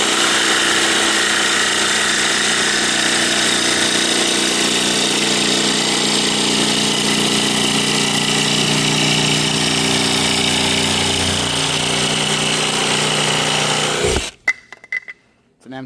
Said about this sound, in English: I like this jigsaw a lot. It has a blower, keeps your line nice and clean.